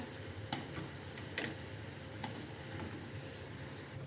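Munthiri kothu, a Tirunelveli sweet, fries in hot oil with a steady close sizzle and soft bubbling, broken by a few faint clicks and stirring taps.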